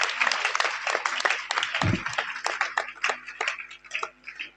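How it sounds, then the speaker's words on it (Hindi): An audience at a school motivational seminar claps for teachers, fairly loud irregular hand claps with a brief low thump near the middle and the applause thinning toward the end. "गुरुओं के लिए एक बार तालियां बजाइए अपने।"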